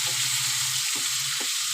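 Tilapia frying in hot oil for a light ridge gourd and potato fish curry, a dense, even close sizzle with a low bubbling undertone and a couple of soft pops.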